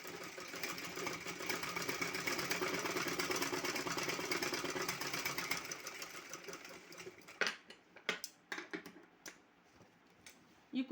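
A sewing machine stitching a shopping bag runs with a fast, steady mechanical whir for about seven seconds, then stops, leaving a few sharp clicks and handling knocks nearby.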